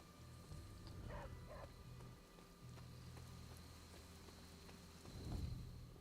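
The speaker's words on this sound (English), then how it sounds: "If the game was programmed so it couldn't be raining right now" Steady rain falls in the video game Marvel's Midnight Suns, a soft, even patter beneath a low background hum, with a few faint thuds.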